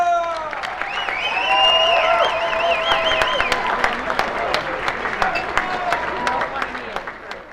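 Comedy club audience in Nova Scotia loudly cheering, whooping and applauding as comedian Mark Walker takes the stage, a sustained roar of claps and high shouts lasting throughout without a break.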